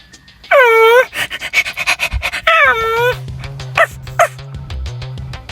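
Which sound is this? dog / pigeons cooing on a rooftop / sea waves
dog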